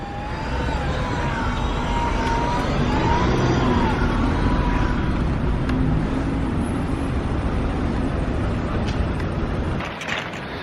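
Continuous broadband rumble of heavy road traffic around a trike being ridden through Surrey, steady engine and road noise with passing vehicles throughout, fading slightly at the very end.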